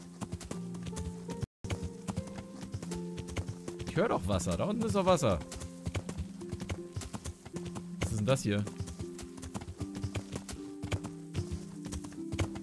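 Steady clip-clop of horse hooves at a walking pace across a meadow in the video game Kingdom Come: Deliverance, with a voice talking over it and a brief pause partway through.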